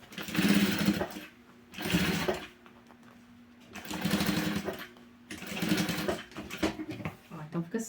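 Sewing machine topstitching synthetic bias binding on a box-style zippered pouch, running in four steady bursts of about a second each with short pauses between, fairly close and clear, with a faint voice in the background.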